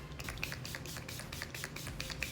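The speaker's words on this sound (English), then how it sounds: "So I'm going to take this and just spray it all over my face." Soft hissing bursts of a pump spray, several quick puffs in a steady rhythm, close and fairly quiet.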